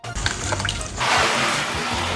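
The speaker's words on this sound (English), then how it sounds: "then I added in salt water" Salt water pours onto a sand base in a small beach tank, a steady close wash of running liquid that swells after a second of lighter, clattering handling noise.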